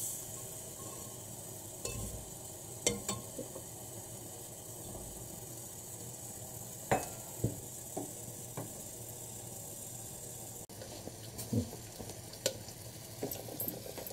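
Mustard and cumin seeds sizzle and crackle in ghee in a clay pot, a steady frying hiss broken by scattered small pops and stirring clicks, fairly close and without any voices.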